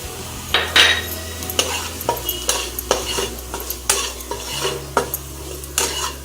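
Spoon stirring turmeric and coriander-cumin powder in a pan for soybean bhurji, with repeated scraping clinks against the metal and a low sizzle running underneath, close and fairly loud, no talking.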